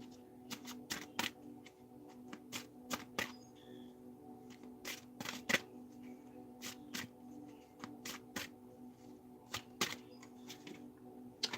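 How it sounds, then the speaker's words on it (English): Shuffling and drawing a card from a Winged Enchantment Oracle deck: soft, papery riffles and taps in irregular clusters, close and fairly quiet, with no talk. "I'm going to pull a Winged Enchantment Oracle deck card for you guys"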